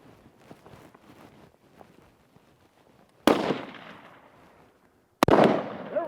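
A rifle fires two loud, sharp shots a couple of seconds apart during shooting training, each with a ringing tail. Faint shuffling and handling noises come before them.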